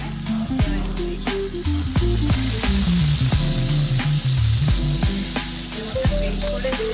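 Tomato paste frying with onions, ginger and garlic paste in a pan for egg curry, a steady loud sizzle with a few sharp utensil scrapes and knocks throughout, no voices.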